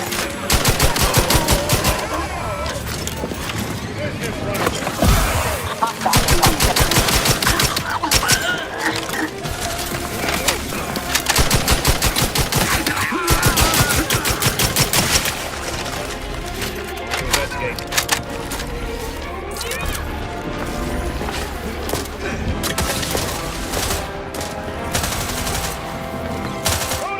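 Heavy automatic gunfire rattles through a firefight in The Outer Worlds 2, with long sustained bursts broken by short pauses over dense game noise and clipped voice lines.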